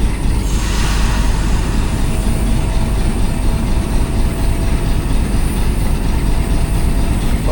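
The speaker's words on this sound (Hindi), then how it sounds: "मूव होना शुरू हो गई है 47 अब रहमान बाबा एक्सप्रेस अटक सिटी जंक्शन से।" A loud, steady rumble of the Rehman Baba Express pulling out of Attock City Junction in hot weather, with continuous wheel and carriage noise close by and no voices.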